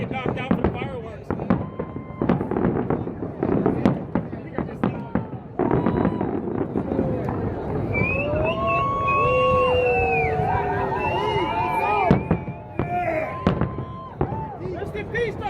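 Dense fireworks bursting at the Tropicana implosion event in Las Vegas, with loud rapid crackling pops and booms throughout, layered over crowd chatter and whistling tones.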